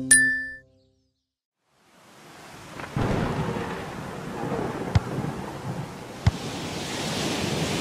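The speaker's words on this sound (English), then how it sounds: "It's raining so heavily outside, and it's windy." A cartoon storm of heavy rain and wind starts with a short chime-like tone, then near-silence, then a rising, continuous roaring rush broken by a couple of sharp cracks.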